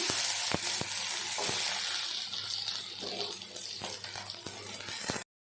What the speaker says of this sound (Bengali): ভাজা তেলের মধ্যে ফোড়নে দিয়ে দিলাম 5 ফোড়ন আর কচুগুলো দিয়ে দিলাম।